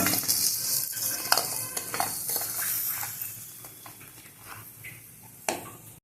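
Salted fish sizzles steadily in a frying pan while a utensil scrapes and stirs it, with small clinks of metal against the pan as the pieces are lifted out.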